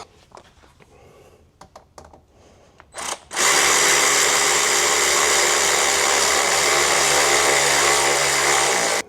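A power tool whirs loud and steady while tightening an intake clamp on a 6.7 Powerstroke engine, preceded by a few faint clicks and handling noises before the motor starts.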